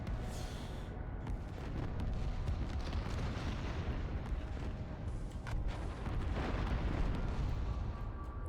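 Continuous deep rumbling blasts and booms in the space game Freelancer during an event with fireworks, a dense, loud wash of explosions throughout with no clear gaps.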